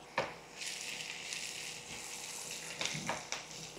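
Onions and green chillies fry in oil with salt, a soft hiss that starts after a knock and holds at moderate level, broken by a few stirring clatters near the end.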